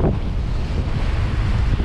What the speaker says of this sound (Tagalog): Oh, ang lalaki ng alon 'yan.